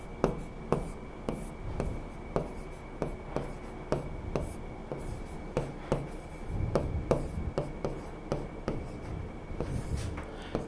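Chalk or marker writing on a board makes a series of short tapping strokes and scrapes, close and fairly regular, about one every half second, over a quiet room background.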